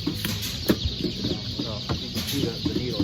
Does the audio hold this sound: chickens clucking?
yes